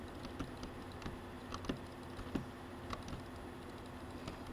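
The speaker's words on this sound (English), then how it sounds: "Intensive clicking." Rapid, dense clicking on a computer keyboard during a server build, a quiet steady patter of keystrokes with no voices.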